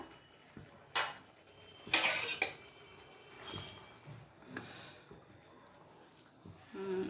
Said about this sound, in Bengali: এবার আমি ঢাকনাটা উঠিয়ে দেখছি আলুগুলো সেদ্ধ হলো কিনা।